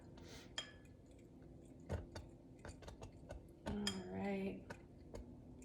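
A spoon stirs a hot mixture in a pot, making scattered light clinks and scrapes against the side at an uneven pace, faint and close, with a brief spoken word partway through and a low steady hum underneath.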